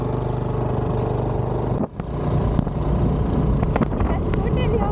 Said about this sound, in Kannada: ಸ್ಕೂಟಿಯಲ್ಲಿ ಹೋಗ್ತಾ ಇದ್ದೀವಿ